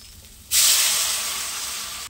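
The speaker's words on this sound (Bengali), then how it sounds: "এবার এর মধ্যে আমি দিয়ে দেবো জল" Water poured into a hot pan of fried taro and potato bursts into a loud, steady steaming sizzle that starts suddenly and holds for over a second and a half before fading slightly.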